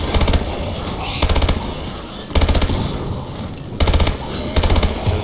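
Automatic gunfire from Call of Duty Advanced Warfare Exo Zombies comes in loud, rapid bursts, about five of them separated by short pauses.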